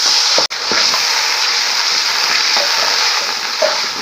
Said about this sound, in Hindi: तो पहले मैं थोड़ा सा तड़का बना लूँ।